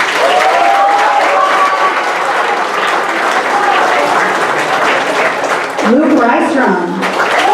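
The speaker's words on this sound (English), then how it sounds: "feel free to give a round of applause on Amari Stokes." Audience at an elementary school fifth-grade moving-up award ceremony claps steadily as names are called, the applause continuous and fairly loud, with a voice speaking over it and a brief lull near the end.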